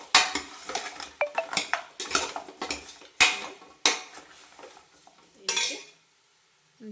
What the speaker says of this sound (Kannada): ಒಂದ್ಸಲ ಈ ಥರ ಚೆನ್ನಾಗಿ ಮಿಕ್ಸ್ ಕೊಡಬೇಕು